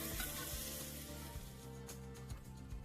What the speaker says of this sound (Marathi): तांदूळ घातल्यावर पण 1 मिनिट परतून घ्यायचंय